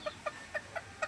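A hen gives five short, evenly spaced clucks close by, each a quick nasal pulse over a quiet background.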